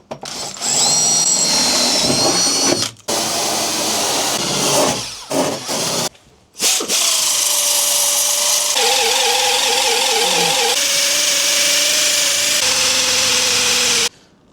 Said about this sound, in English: Let's drill out these holes